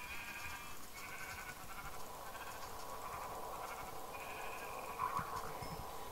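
Sheep bleating in the video game Minecraft, several faint nasal bleats spread across a constant hiss of background noise, with no clear voices.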